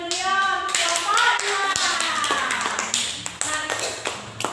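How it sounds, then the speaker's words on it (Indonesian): A classroom group claps for a student group after their discussion presentation, with a burst of applause and hand taps heard under a teacher's and children's voices. "Tepuk tangan dulu ya untuk kelompok"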